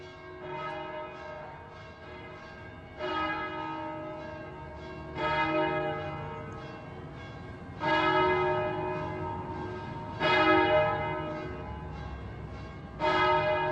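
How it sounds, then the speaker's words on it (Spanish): Church bells ring out over the old city centre of Palma, Mallorca, with several loud, resonant strikes spaced a few seconds apart, each followed by a long, humming decay, and no voices. "En este vital centro palmesano resuenan las campanas marcando los días."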